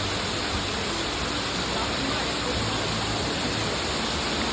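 A steady roar of falling water fills the whole stretch, a constant broadband rush with no breaks, like a waterfall heard from nearby, at Madhe Ghat in the hills.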